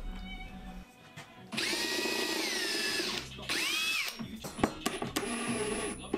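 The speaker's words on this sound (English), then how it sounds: "I could then drill pilot holes into the wood" A power drill bores pilot holes into wood in bursts: high whining runs that rise and dip in pitch, separated by short pauses and clicks, close and fairly loud.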